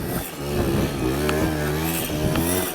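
A Simson S51 moped revs hard while spinning its tyre in snow, a loud, continuous two-stroke engine drone with rising and falling pitch throughout.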